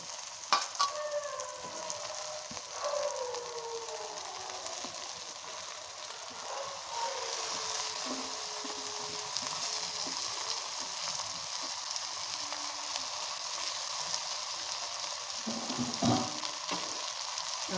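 Boiled chow mein tipped into a frying pan with potatoes, a continuous close sizzle with occasional stirring scrapes and small knocks, no talk.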